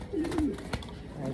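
A soft coo from a racing pigeon in training rolls low and throaty, a brief burbling call close by, with faint background noise around it.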